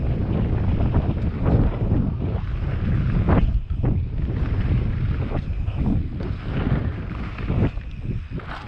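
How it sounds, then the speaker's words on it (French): Strong gusty wind buffets the microphone at a dirt bike jump spot in Wanaka, New Zealand, a constant low roaring rumble with surging gusts throughout. "il y a beaucoup de vent"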